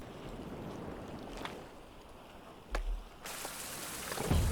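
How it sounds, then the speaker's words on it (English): Rain falling in the survival video game Survival: Fountain of Youth, a soft steady patter that swells into a louder, denser hiss partway through, with a couple of brief thumps. "And it's raining, perfect."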